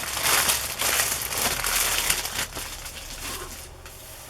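Packing tape on a taped-up box is cut away, giving a steady run of crinkling and tearing rustles up close with short sharp crackles, then trailing off more quietly.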